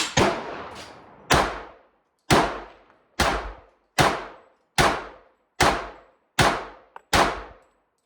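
A Tisas 1911 pistol fired at a shooting range, nine loud, sharp shots spaced about a second apart, each ringing off briefly, with a faint metallic click between two of them.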